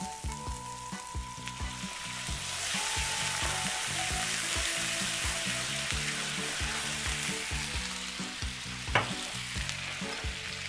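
Shallot sizzling loudly in a hot pan as white wine goes in for a tomato basil sauce, with a dense continuous fry and rapid crackling pops, close and steady throughout.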